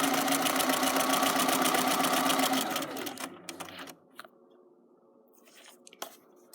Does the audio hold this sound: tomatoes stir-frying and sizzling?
no